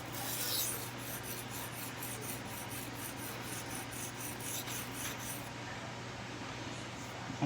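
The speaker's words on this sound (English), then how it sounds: "I'm just going to touch up that tip one last time." A knife tip being touched up on a sharpening stone makes a close, steady rhythmic rasping of steel stroked across the stone, repeating continuously with no voice over it.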